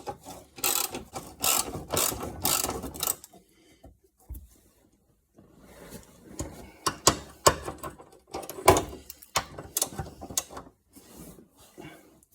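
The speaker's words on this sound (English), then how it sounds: "here you need a 10mm socket" A 10mm socket ratchet working on the rear suspension of a Rover 75, giving rapid clicking bursts with pauses between them, close and fairly quiet.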